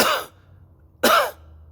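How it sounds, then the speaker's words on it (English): Two short, forceful deliberate coughs from one person, about a second apart, close and loud with silence between them. "that was me trying to cough"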